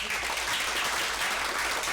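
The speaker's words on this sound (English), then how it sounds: "give them a round of applause" Steady audience applause at a real estate wealth-building recap session, a dense, even patter of many hands clapping that fills the whole stretch at a consistent level with no talk over it.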